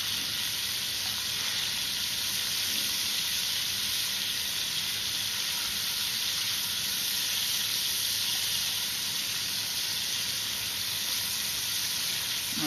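Tap water runs steadily into a pot being filled for pasta, a constant broadband hiss that carries on unbroken for the whole stretch with no talk over it.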